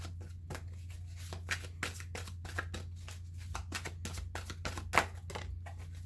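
Tarot cards shuffled by hand, giving a run of crisp papery riffles and soft slaps with brief gaps between bursts, close up over a steady low hum, no talking.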